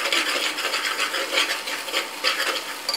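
A spoon scrapes and stirs turmeric, red chili powder and chole masala through an oily pan, a continuous close gritty swishing with a soft sizzle beneath.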